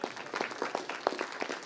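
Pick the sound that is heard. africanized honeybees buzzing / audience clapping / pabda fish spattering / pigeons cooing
audience clapping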